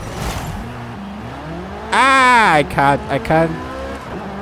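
A Corvette on carbon fiber wheels revs and launches in Forza Horizon 5, its engine note rising and falling in loud, sweeping bursts while someone talks briefly over it.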